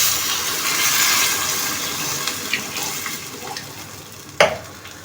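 Water poured into a pot over meat sautéed with spices and onions for a meat kabsa, a rushing splash that starts strong and tapers off, ending in a brief sharp clunk near the end.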